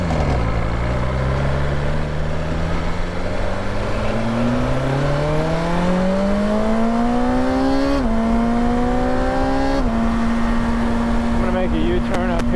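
A BMW S1000XR motorcycle being ridden on the road, its engine note climbing steadily through the gears in a continuous, close drone with a steady rush of wind noise underneath.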